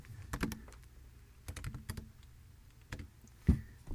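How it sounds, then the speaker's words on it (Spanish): Several close, quiet clicks of a computer keyboard come in short bursts with pauses, as Ctrl and 1 are pressed to apply number formatting in a spreadsheet. "En el teclado yo tengo que marcar, entonces en este caso control y 1, control y el número 1"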